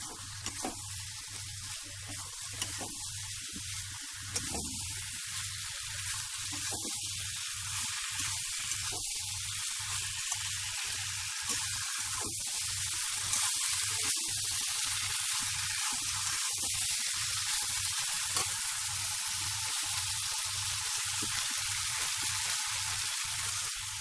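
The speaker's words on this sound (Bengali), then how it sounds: "এখন আমি এতে মটর আর আলুগুলো দিয়ে দিচ্ছি, আর গ্যাসের স্টিমটা বাড়িয়ে দিলাম" Peas and potatoes sizzle and crackle steadily in hot oil and spice paste over raised gas heat, a continuous frying hiss with faint rhythmic ticking underneath.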